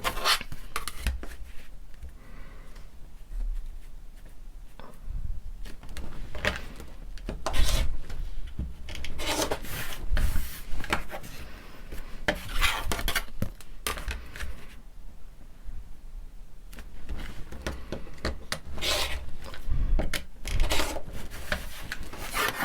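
Half square triangles of quilting fabric trimmed against a ruler, with irregular rubbing, sliding and cutting strokes on a hard surface and brief handling pauses between them, close and fairly quiet.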